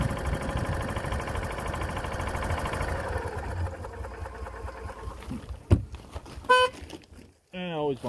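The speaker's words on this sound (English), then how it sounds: "And I always bump that horn." A Club Car golf cart horn gives a short honk near the end, following a stretch of engine running noise after a cold start in roughly minus 10 degree weather.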